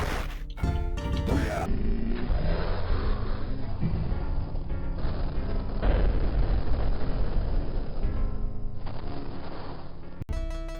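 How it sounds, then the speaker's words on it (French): Sword special move striking the ground and setting off an explosion in Samurai Shodown on the Mega Drive; a loud, dense, sustained blast of crunchy game noise lasting several seconds, with a voice talking over it. "Ou encore ce coup-là avec Wanfu, au niveau de l'explosion au sol, en fait, une fois que l'épée arrive au sol"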